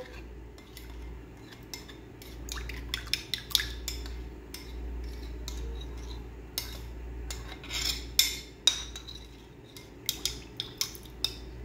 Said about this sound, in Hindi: अब हम इसको मिक्स करेंगे, इस सारे मिक्स को।